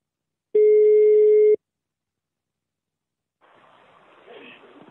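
Telephone ring tone during a prank call, a single steady electronic tone lasting about a second, followed by silence and then faint rustling noise.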